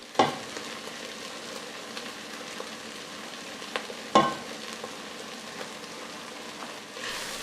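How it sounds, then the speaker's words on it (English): Onions and sugar sautéing in a pan for French onion soup with beef, a steady close sizzle broken by a few sharp spatula scrapes and knocks as they are stirred; no one talks. "And we're back to stirring and mixing, stirring and mixing."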